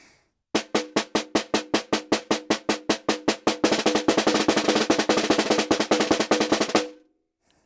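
Snare drum multiple bounce strokes played with too soft a fulcrum: a regular series of close, loud strokes that turns into a denser, blurrier buzz roll midway and runs on for several seconds before cutting off.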